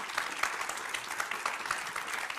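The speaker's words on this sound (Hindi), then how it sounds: "तालियों के साथ आप दोनों का बहुत बहुत स्वागत है।" Studio audience applause welcoming two debaters onto a televised political debate show, a brief burst of many hands clapping at moderate distance, steady and fairly even.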